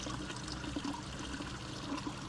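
Water trickles and gushes steadily out of a hole in a filter, a continuous soft splashing flow heard close up with no voices.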